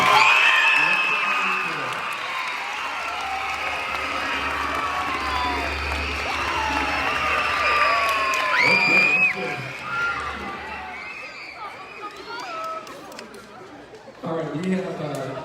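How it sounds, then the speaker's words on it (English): An all-school end-of-year assembly crowd at Summit Christian Academy clapping, screaming and whooping, a steady roar of many voices and claps with a brief dip before it swells again. "can you get really, really loud with clapping, screaming, whatever, to thank Abundant Life for allowing us to use this space"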